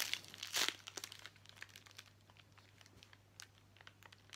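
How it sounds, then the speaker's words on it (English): A squishy toy is squeezed inside its plastic packaging bag, making faint close crinkling with one brief louder rustle at the start and then soft, scattered crackles. "Let's squish it in the bag."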